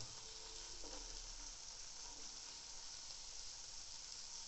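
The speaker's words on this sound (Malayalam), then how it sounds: "നമ്മൾ പനീർ മറിച്ചും തിരിച്ചും ഇട്ട് വേണം ഒന്ന് ഫ്രൈ ചെയ്തെടുക്കാൻ." Cubes of paneer fry in a pan for butter paneer masala, giving a steady, soft, continuous sizzle with no talking.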